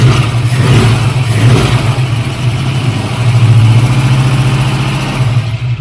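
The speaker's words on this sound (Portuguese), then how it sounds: "já está funcionando o Maverick aqui" Ford Maverick V8 idling with a steady, loud, deep rumble and hum, the engine shaking from a crankshaft balance fault, running continuously with no voices.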